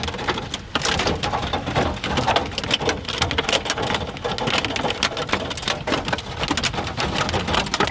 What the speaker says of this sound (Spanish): Es una tormenta, un temporal fuerte de granizo y lluvias en la provincia de Mendoza.